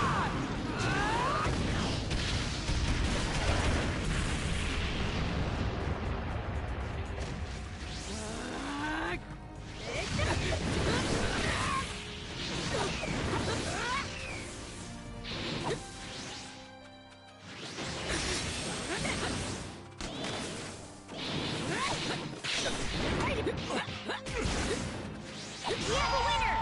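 The King Uzumaki Barrage attack in Naruto x Boruto Ultimate Ninja Storm Connections sounds as a long, loud flurry of whooshes, heavy impacts and crashes layered over game music and effects, relentless with brief dips.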